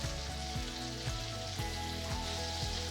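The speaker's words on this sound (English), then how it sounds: "With a fork, flip the shrimp over and cook the other side for an additional 1 to 2 minutes" Shrimp sizzling in a hot pan, a steady close crackle with light rhythmic scraping from a fork turning them.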